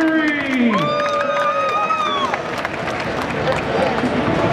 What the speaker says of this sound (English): an even larger and noisier round of applause for our only female robot here